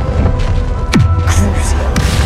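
Bombarda and Confringo spell blasts in the video game Hogwarts Legacy, a loud whooshing cast followed by a deep booming impact, with a sharper crack near the end over continuous game sound and voice.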